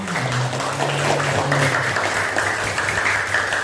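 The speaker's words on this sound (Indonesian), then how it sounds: "Beri tepuk tangannya dulu." A classroom group claps together in a dense, steady patter that holds for a few seconds, with a low hum underneath.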